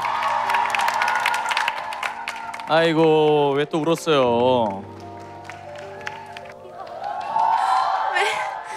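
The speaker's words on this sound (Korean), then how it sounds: "자, 그럼 뜨거운 박수 부탁드립니다." A studio audience at a cover dance event bursts into loud applause and cheering, with dense clapping and whoops at the start before a voice speaks over it and the crowd noise fades.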